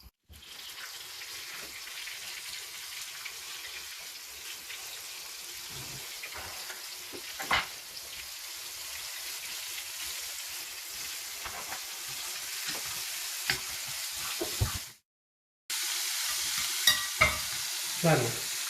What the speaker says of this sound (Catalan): Passarem a fregir.